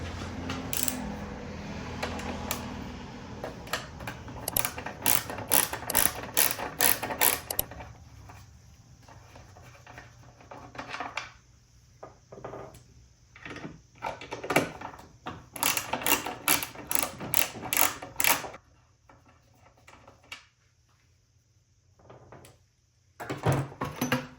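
A small plastic piece is worked off an Arctic Cat 250 ATV with bursts of rapid clicking and rattling, plastic clatter and brief pauses between, close and fairly loud.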